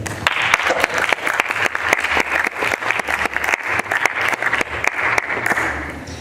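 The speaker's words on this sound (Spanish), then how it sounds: "para quien pido un fuerte aplauso" Separate, crisp handclaps from a small audience welcome the speaker at an evening art lecture, a lively but thin patter of individual claps that continues throughout the clip.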